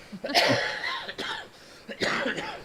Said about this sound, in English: Stop laughing, you make yourself cough.